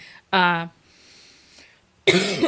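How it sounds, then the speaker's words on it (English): Two loud, harsh coughs from a person close by, separated by a short pause with faint breathy noise between them. "sorry, I had to cough there. It was a big one."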